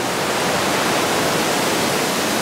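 A river runs through a mountain valley at Aguas Calientes near Machu Picchu, making a steady, loud, full rushing roar close by with no pauses.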